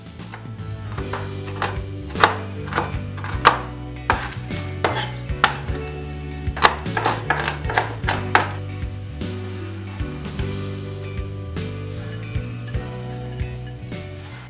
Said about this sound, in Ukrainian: подрібнюю смажений мигдаль